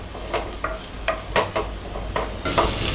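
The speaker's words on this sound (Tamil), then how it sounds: "வெங்காயம் நல்லா வதங்கிடுச்சு." Onions sauté in oil in a pan while a spoon stirs them for a prawn pulao, a soft continuous sizzle broken by repeated quick scraping strokes, close and fairly quiet.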